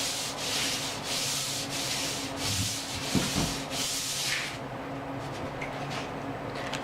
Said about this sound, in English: I'm just sanding that with very fine sandpaper